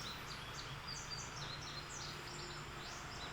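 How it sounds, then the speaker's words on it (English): Small birds chirp and trill in short high bursts outside a barn, moderately faint over a steady wash of outdoor background noise, with a few overlapping calls. "I don't understand what the birds are saying"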